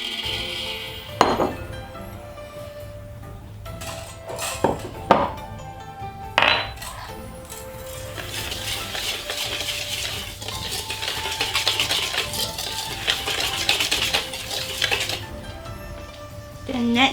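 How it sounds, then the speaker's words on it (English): Flour, sugar and salt whisked together in a bowl for peanut cookies, with a few sharp clinks and knocks early on, then a long, quieter scratchy whisking. "Next, we're going to put in the flour, sugar and the salt and whisk it."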